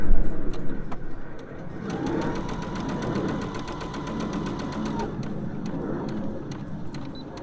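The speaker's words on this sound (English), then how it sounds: "take my pin out before I sew, a little bit of a reverse" A sewing machine stitches around the corner of a small round fabric drawstring pouch, a steady rapid needle rhythm running close and clear for several seconds, with a brief pause and light clicks at the start.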